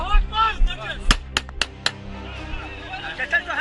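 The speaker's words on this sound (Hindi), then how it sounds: "खौफ पैदा करने के लिए हवा में गोलियां भी बरसा रहे हैं" Gunshots fired into the air by Hamas militants during a hostage abduction at a music festival on October 7: four or five sharp, loud cracks in an irregular burst, mixed with shouting voices and crowd noise.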